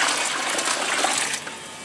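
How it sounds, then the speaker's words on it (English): Ice and cold water pouring into a turkey brine, a loud continuous splashing rush close by for about two seconds, easing slightly near the end. "Now, here's some ice. I like to cool it off with ice."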